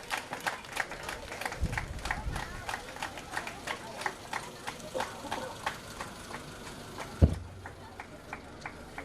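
Steady rhythmic clapping from a crowd outdoors at a police passing-out parade, moderately loud and continuous, with a sharp thump near the end.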